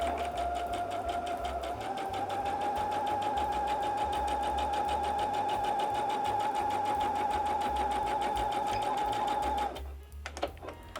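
A sewing machine stitches two small fabric pieces together with a fast, steady mechanical whir and a constant high hum, running close and alone for nearly ten seconds before stopping with a few clicks.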